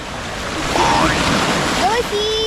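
Surf crashes against rocks along a Bohol island shore as a continuous loud wash of water and wind, with voices calling out over it.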